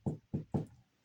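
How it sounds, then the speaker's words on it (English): Three evenly spaced knocks, close and fairly loud, like rapping on a bathroom wall, each short and hollow with a brief pause between, and no talking. "I heard a knock like this"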